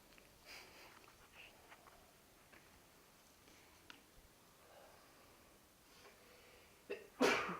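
A single sharp sneeze bursts out near the end of a quiet yoga class, close and loud after several seconds of faint room sound and soft breathing.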